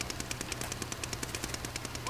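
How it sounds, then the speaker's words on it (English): Rapid bursts of automatic gunfire from other players crackle in a video game battle, a fast steady rhythm of sharp shots at moderate distance with no talk. "That's people just shot at me."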